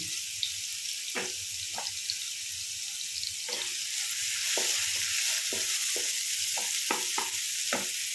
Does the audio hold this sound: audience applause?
no